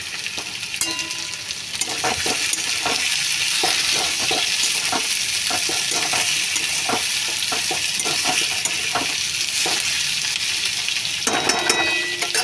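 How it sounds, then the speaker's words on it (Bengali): Potato pieces are stirred through hot oil, giving a continuous sizzle broken by regular scraping strokes of a spoon against the pan, with a few metallic clinks near the end. "আলুগুলো ভালো করে নাড়িয়ে দিচ্ছি তেলের মধ্যে"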